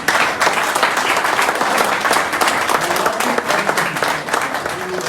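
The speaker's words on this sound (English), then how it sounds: "So I want all of you to please give my directors a round of applause" A crowd applauds steadily, dense clapping filling the room at a constant, fairly loud level from start to finish.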